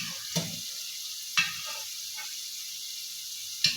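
Tender, well-cooked mutton frying with lightly browned onions for Kabuli pulao: a quiet steady sizzle, broken by three brief stirring scrapes, with no voices.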